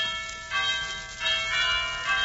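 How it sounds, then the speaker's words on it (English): Doorbell sound effect in a 1947 radio comedy show, a few resonant chime-like rings with lingering bell tones, ringing out alone at moderate volume. "I'll ring the bell."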